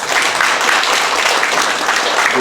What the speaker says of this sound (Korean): 큰 박수 한번 주시고요